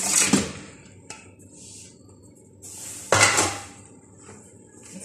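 Utensil scraping and clanking in a pot while fish biryani is stirred, two louder bursts of metal contact over quiet background, close by.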